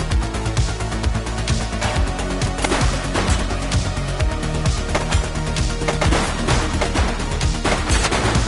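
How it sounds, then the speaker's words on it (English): Sustained gunfire from the police video game The Precinct, dense bursts of shots with rapid automatic fire layered over a constant loud backdrop of game sound, no voices. "He's shooting!"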